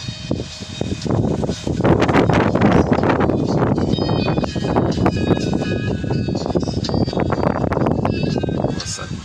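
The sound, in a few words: breezy wind blowing on the microphone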